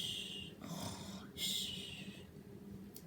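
A voice imitates snoring with a drawn-out, raspy breath followed by a second snorting inhale, close and soft.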